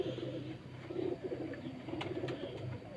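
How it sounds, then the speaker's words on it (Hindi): A champion racing pigeon on a rooftop loft in Sheikhupura coos softly in low, throaty murmurs amid faint outdoor background noise, with a few brief sharp sounds. "मैं आपको एक चैंपियन कबूतर दिखा रहा हूँ।"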